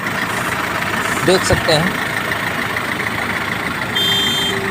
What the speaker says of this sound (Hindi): ये गाड़ी को हमने कर दिया स्टार्ट, गाड़ी स्टार्ट हो गई है